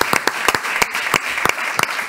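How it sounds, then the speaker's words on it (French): Scattered applause at a civic ceremony in Nîmes, a few individual claps standing out sharply over a softer wash of crowd clapping. "Applaudissements pour Paul Chabrol."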